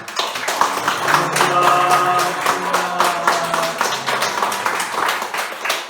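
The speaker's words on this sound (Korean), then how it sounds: "다 함께 환영하시면서 박수하시겠습니다" A small storefront church congregation claps to welcome first-time visitors during a Sunday service, a brisk run of sharp overlapping claps close by, with a sustained musical tone and voices underneath.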